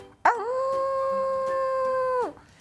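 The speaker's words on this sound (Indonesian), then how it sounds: "Itu namanya serigala." A single long wolf howl holds a steady, clear tone for about two seconds, loud and close, then breaks off sharply with no talk over it.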